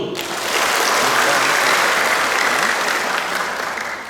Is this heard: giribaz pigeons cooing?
no